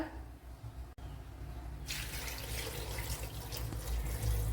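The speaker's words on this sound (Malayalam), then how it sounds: "ഇനി വേകുവാൻ ആവശ്യമായ വെള്ളം ഒഴിച്ചു കൊടുക്കുക." After a quiet moment, water starts pouring into a cooking pot of vegetables for green peas stew, a steady, splashing stream that runs to the end.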